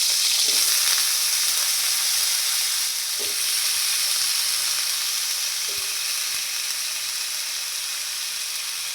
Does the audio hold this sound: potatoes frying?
yes